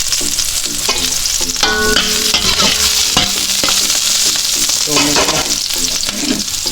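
Onions for pinakbet sauté loudly in a pan, a close, continuous sizzle broken by repeated stirring scrapes and utensil knocks, with no speech over it.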